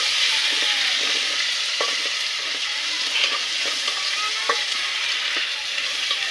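Ginger garlic paste fries in hot oil in a pan, a dense, steady sizzle that runs throughout, with occasional soft scrapes from stirring, close up and without voices.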